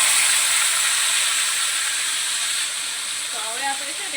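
Tomatoes sizzle in a hot pan, a steady loud hissing that fades slightly after a few seconds.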